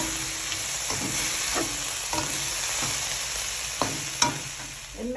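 Chili tossed into a hot pan fries with a steady loud sizzle while a utensil stirs and scrapes in irregular knocks, up close with no voices.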